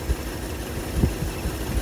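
A Ford Thunderbird engine idles rough while still cold, its worn carburetor giving a low, uneven chug with irregular thumps pulsing through a steady hiss, close to the car.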